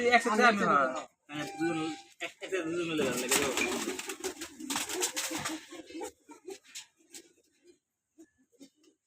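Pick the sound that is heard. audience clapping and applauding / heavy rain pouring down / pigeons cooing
pigeons cooing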